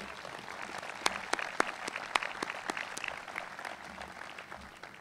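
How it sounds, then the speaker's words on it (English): An audience claps at an outdoor-style groundbreaking ceremony for an athletic performance center, a moderate round of applause with a few sharper individual claps standing out, steady for several seconds before thinning slightly. "Please give them a big round of applause."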